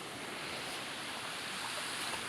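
Sea waves wash onto a rocky, stony beach with a steady broad roar and rush, close and continuous, with no voices.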